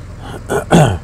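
A single man clears his throat close to the mic, a short rough rasp and then a louder, deeper second push lasting about a second, with no other sound around it.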